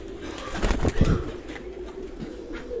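Pigeons at a home pigeon show in Sargodha coo near and loud, with a brief burst of fluttering or rustling early on, then quieter cooing continuing.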